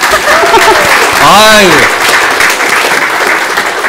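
A church congregation applauds during a worship service, continuous clapping with a voice rising over it in a short exclamation mid-way.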